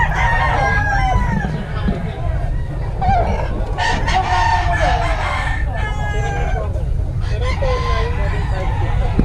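A Boston Sweater gamefowl rooster crows loudly and close several times, with clucking from other fowl around and faint voices in the background.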